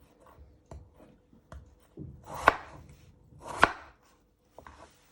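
A knife chops potatoes into pieces on a board, giving a few spaced knocks. Two sharper, louder cuts land about a second apart, followed by quieter taps.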